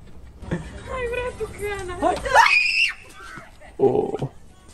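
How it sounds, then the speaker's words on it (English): A frightened girl lets out a loud, shrill scream at a human statue prank, rising sharply in the middle, with voices reacting around it and a brief second outcry near the end. "what a loud scream."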